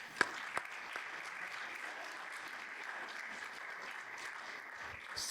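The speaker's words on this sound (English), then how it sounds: "let's give them a round of applause" An audience at an African American Read-In Day event claps steadily, a dense even patter of many hands with a couple of sharper claps early, continuing for several seconds.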